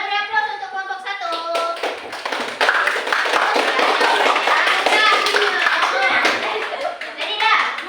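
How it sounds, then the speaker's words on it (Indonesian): A class of children applauds a student group with a burst of scattered clapping and tapping that carries on for several seconds, mixed with kids' voices talking and chattering. "beri aplaus untuk kelompok satu."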